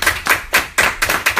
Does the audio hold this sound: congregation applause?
yes